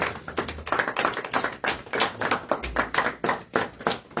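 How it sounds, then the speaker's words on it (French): A church congregation claps in rhythmic bursts, a dense close wave of hand claps with a regular pulse, with no talking over it. "Est-ce qu'on peut acclamer pour la parole?"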